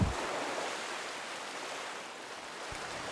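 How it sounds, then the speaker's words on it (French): Ocean waves washing onto a beach, a steady broadband rush of surf that holds at an even, moderate level throughout with no voices. "le son des vagues"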